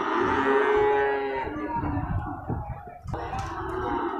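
A Bali cow at a livestock market moos loudly in one long drawn-out call, followed by shorter rough vocal bursts, with market background noise underneath.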